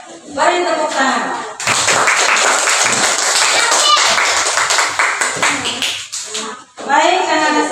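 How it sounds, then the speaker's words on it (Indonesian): A class of children clapping together in a classroom, a dense burst of rhythmic applause lasting several seconds, with a teacher's voice speaking before and after. "Beri tepuk tangan."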